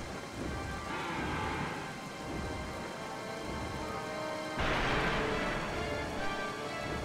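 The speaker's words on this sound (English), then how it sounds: "Uh-oh, it's starting to rain." Steady rain pours in Zelda Twilight Princess HD while a rumble of thunder swells midway, loud and enveloping, with no voices.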